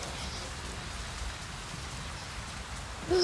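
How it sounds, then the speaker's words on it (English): Even, dense rain falls without pause in the video game Avatar: Frontiers of Pandora, a short sharper sound cutting in at the very end. "And it's raining."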